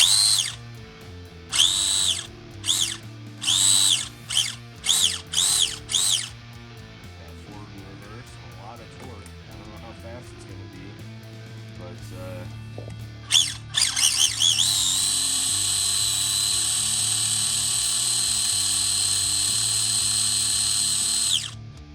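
The electric motor and servo of a Wow Wee Thunder Max RC dragster, being converted to hobby grade, run on the bench. Short whirring bursts come first, then a long sustained high whine, with a person talking underneath.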